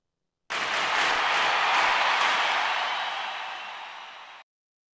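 A crowd sound effect layered into an electronic dance track production: a dense, steady wash of crowd noise and applause that starts abruptly, holds loud and even for about four seconds, and cuts off cleanly.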